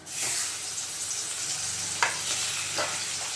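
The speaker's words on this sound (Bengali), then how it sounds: "ভেজে নেব ইলিশ মাছ" Hilsa fish fries in hot oil with a steady bright sizzle throughout, broken by a few short spatter pops and stirring touches; no one speaks.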